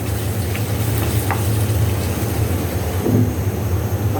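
Masala spices cooking down in oil for an okra curry, giving a steady, close sizzling hiss with a low rumble beneath and a brief swell near the end; no voices.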